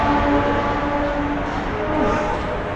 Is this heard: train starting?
yes